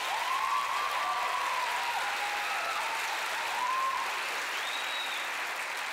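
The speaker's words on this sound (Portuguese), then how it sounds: "salva de palmas para eles." An audience applauds as an improv duo takes the stage at a comedy show, a steady crowd clapping throughout with a few faint whistles or cheers rising above it.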